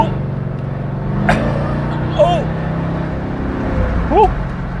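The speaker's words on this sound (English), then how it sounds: "It's doing crazy downshifts now." A 203k-mile Mercedes-Benz R230 SL500 with a failing automatic transmission drives along, its steady engine and road rumble shifting pitch as it makes erratic downshifts, while voices briefly exclaim over it.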